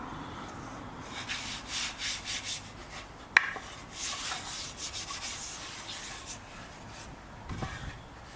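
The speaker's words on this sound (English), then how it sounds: "I'm going to start with a 400 grit sandpaper with a DA." A dual-action sander with 400-grit sandpaper scrubs against a wooden guitar body in uneven bursts, a raspy whirring grind with a sharp knock partway through. No one speaks, and the sound stays fairly faint.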